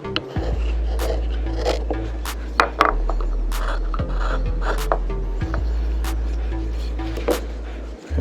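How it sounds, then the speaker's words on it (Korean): A knife shaves a wooden spoon into a rounder shape. Short, close scraping cuts repeat at an irregular pace over a low steady hum, and nobody speaks. "여기서 이제 더 둥근 형태로 나무를 깎아줍니다"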